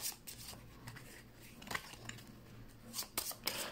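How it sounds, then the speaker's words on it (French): A small deck of playing cards for a board game being shuffled by hand, quiet and close, with irregular riffles and soft rubbing flicks. "Troisièmement, mélanger les cartes"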